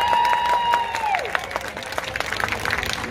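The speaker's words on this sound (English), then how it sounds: "we are going to give him a massive cheer" An audience at a sea lion show at a West Midlands safari park bursts into applause, starting after a sustained whistle tone and continuing as dense, scattered clapping with some crowd noise.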